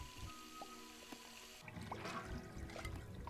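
Water runs from a faucet at the Burrow in the Lego Harry Potter: Years 1-4 video game, a steady rushing stream that swells after a quieter opening over a soft game background.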